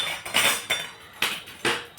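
Two large steel serving spoons clinking together as they are handled, giving five or six quick, bright metallic taps in a loose rhythm, close and fairly quiet.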